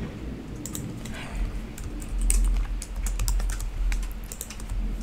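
Rapid typing on a computer keyboard, close and steady, with continuous clicking keystrokes and a low hum underneath during a casual home stream.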